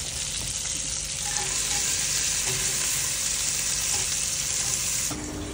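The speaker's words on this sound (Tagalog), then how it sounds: "nagpainit na ako ng kawali. So mainit na siya at lalagyan ko na ng oil." Oil heating and frying in a hot wok for tom yum soup, a steady loud broadband sizzle running unbroken with faint clinks, ending with a brief shift near the close; no voices.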